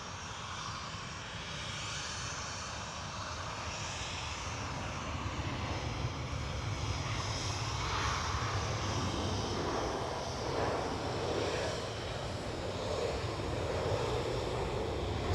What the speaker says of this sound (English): Transavia 737